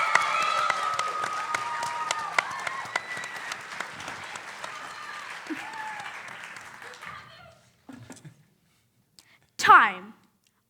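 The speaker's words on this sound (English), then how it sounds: "Please give a massive, massive round of applause" At the FameLab Academy Final 2025, a science-communication competition, an audience gives Joanne Daniel sustained, fairly distant applause for about seven seconds before it dies away to near silence, followed by a brief close burst of voice.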